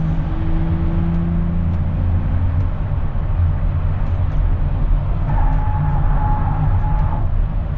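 A 2023 Nissan Z with an HKS full dual muffler cat-back exhaust rumbles steadily with a deep low drone, idling or cruising continuously throughout without any talk.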